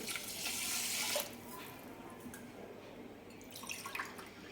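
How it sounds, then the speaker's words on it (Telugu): Water pours in a strong rush for about a second into rice in a pressure cooker, then gives way to quieter trickling and dripping. "నేను 2 ఫుల్ గ్లాస్ ఆఫ్ వాటర్ అయితే యాడ్ చేశాను"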